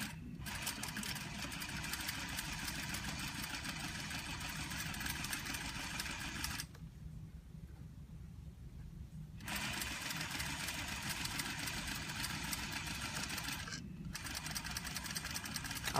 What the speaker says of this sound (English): I'm going to take a couple of stitches forward, and then I'm going to push down the lever over here and go backwards over top of those stitches